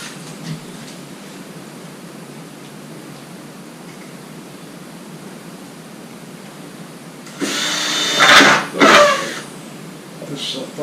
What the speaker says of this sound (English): Pre-drill them.